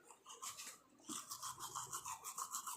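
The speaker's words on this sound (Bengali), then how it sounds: "ব্রাশ করছি।" Teeth being brushed with a toothbrush at close range, a steady run of quick scrubbing strokes in a fast back-and-forth rhythm, with a short pause early on before the brushing resumes.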